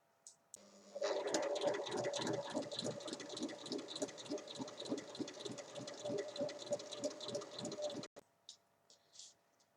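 A sewing machine stitches the sides of a cushion cover in a fast, even, rhythmic run of needle strokes, close and continuous for several seconds before stopping, with a few soft clicks after.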